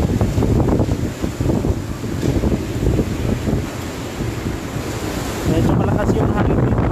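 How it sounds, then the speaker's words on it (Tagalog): Strong typhoon wind from Super Typhoon Rolly (Goni) gusts and roars steadily in Naga City, with buffeting rumble against the microphone continuing throughout. "Medyo malakas yung hangin dito."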